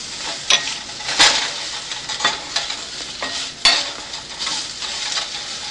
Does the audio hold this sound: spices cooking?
yes